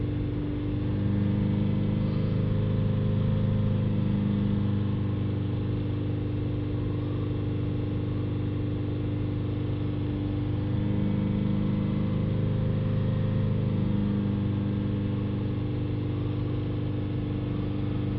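A Honda 2.2 diesel car engine holds a steady, even hum at about 3000 rpm, droning on without change for the whole stretch.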